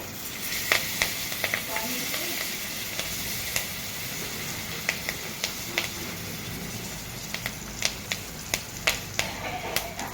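Garlic butter, bay leaf and curry leaves sizzle steadily in a hot pan, a continuous frying hiss punctuated by scattered sharp pops and crackles throughout, with no voices.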